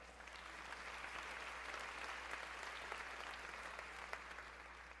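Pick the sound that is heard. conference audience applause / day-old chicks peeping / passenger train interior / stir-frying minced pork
conference audience applause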